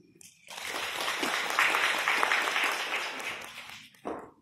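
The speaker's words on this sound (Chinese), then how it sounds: "请大家以掌声欢迎" An audience at a lecture on an ancient Mesopotamian city bursts into applause, which swells quickly, holds as a dense clatter of many hands for about three seconds, then fades away, with a brief sound at the end.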